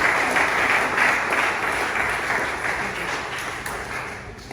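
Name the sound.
audience applause at graduation ceremony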